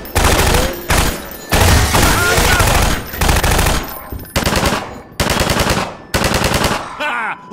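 Loud automatic gunfire in the video game Half-Life 2, long rattling bursts of rapid shots separated by short pauses, close and dominant, with no speech over it.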